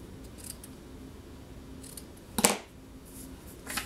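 Scissors trimming a short length of craft ribbon: one crisp snip partway through a quiet tabletop scene, with a few faint handling taps around it.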